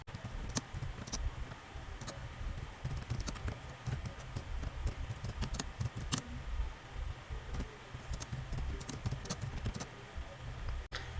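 Fingers type steadily on a computer keyboard while a sentence is entered in Microsoft Word, with close, quiet, irregular clicks sounding continuously throughout and no talking.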